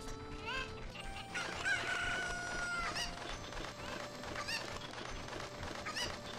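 Cucco chicken in The Legend of Zelda: Ocarina of Time giving a loud rooster crow over a steady game soundtrack, followed by several sharp clucks and squawks spread through the rest of the stretch.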